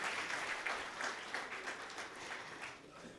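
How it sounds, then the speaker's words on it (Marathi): Audience clapping at an honour ceremony in Nashik, a dense even wash of applause that holds steady for a few seconds and then begins to thin. "आपण जोरदार टाळ्या झाल्याच पाहिजे"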